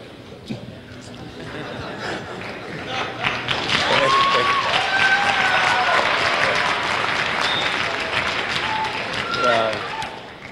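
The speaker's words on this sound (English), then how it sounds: "Now you can really clap." An audience breaks into sustained applause at a speaking event, the clapping building over several seconds and holding loud and dense, mixed with scattered chuckles, murmured chatter and brief voices.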